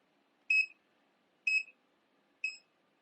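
Three evenly spaced short electronic beeps from a Geiger counter checking tablets, clear and fairly close with no talking over them.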